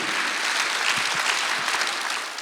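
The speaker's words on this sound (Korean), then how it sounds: "박수하자." A church congregation at an Easter Sunday service claps together in a loud, continuous burst of many hands with no talk over it.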